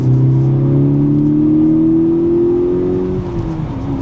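A VW Golf R Mk6 engine revs up close, its tone rising steadily over about three seconds before easing back down, loud and alone.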